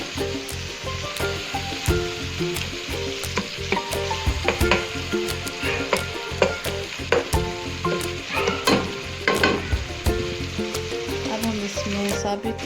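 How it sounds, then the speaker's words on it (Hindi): Spices fry in oil for masala bhindi, crackling and sizzling loudly and close while a spoon stirs repeatedly, with frequent clicks and scrapes against the pan over a constant frying hiss. "स्पाइसेस को अच्छे से हम फ्राई कर लेंगे अपने मसाले के अंदर"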